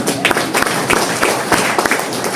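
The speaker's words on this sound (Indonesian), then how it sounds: "Tepuk tangan buat Tuhan." A congregation at a healing church service claps in a steady, quick rhythm. The claps are sharp and evenly spaced over a noisy, reverberant room background.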